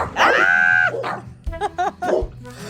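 Dogs barking close by: a drawn-out whine is followed by a quick cluster of sharp barks, fairly loud, with no talking.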